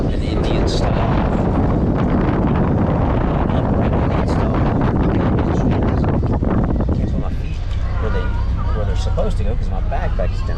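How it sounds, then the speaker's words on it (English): A strong, icy wind buffets a moving bus in Cambodia: a loud, continuous roar of rushing air that fills the whole stretch, easing slightly near the end, with a voice faintly underneath. "this wind right here is intense"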